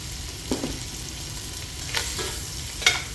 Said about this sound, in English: Pan's reheated, we're going to go in with our shrimp.